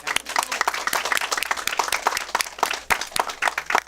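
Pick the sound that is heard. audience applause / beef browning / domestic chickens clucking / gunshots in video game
audience applause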